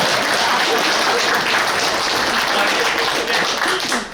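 Dense, sustained applause from a large audience at a public forum, loud and continuous, tapering slightly at the very end.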